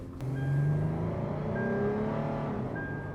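A Toyota 4Runner fitted with a ROAR throttle pedal pulls away on an open road, its engine droning steadily and climbing in pitch as it accelerates, close and continuous with no talk.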